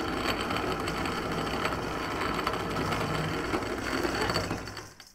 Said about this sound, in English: So when we do cornmeal, the first time through, we do it pretty coarse just to kind of crack the kernels.